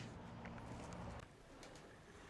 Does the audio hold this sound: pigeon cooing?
yes